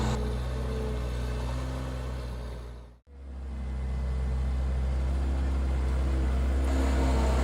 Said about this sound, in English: Here we have the machine spreading gravel like a G5 crusher over a road for trucks.